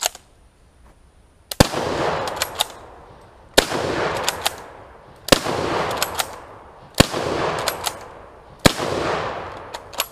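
A Turk Mauser rifle is fired hard: five loud, sharp shots arrive about two seconds apart, each trailing off in a long echoing decay, after a quiet opening moment.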